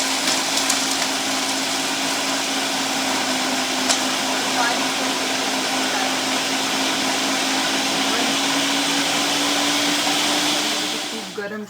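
A mixer grinder runs steadily for making dry fruit laddu, its loud motor whine holding for about eleven seconds before spinning down at the end.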